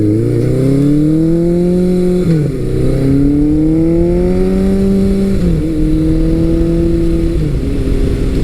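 Kawasaki Versys 1000 LT motorcycle engine pulling hard through three rising gear runs with brief dips at each shift, loud and steady from the rider's position under heavy wind rush.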